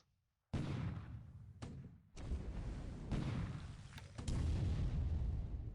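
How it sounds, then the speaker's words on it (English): Heavy explosion rumbles from a shell hit in the naval war game War in the Pacific, several booming bursts following one another after a silent start, each loud and sustained with a low rolling tail. "We got a shell hit here."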